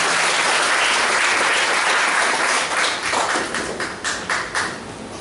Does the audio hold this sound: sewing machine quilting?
no